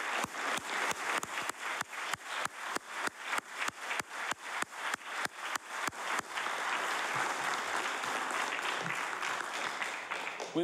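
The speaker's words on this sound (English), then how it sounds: "Let's extend a round of applause to these outstanding individuals." An audience at a Treaty Day event at Province House applauds award honourees, beginning with evenly spaced sharp claps that give way to a steady wash of applause.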